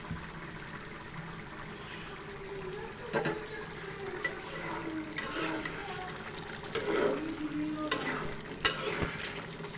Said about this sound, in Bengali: ভালোভাবে এটা নেড়ে চেড়ে দিচ্ছি যাতে নিচে ধরে না যায়